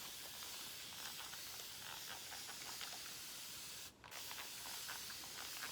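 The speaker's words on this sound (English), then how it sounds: "Spray them again." A spray bottle mists freshly planted lavender and lemongrass seeds with a steady, close hiss. The spray holds for several seconds and breaks off briefly partway through.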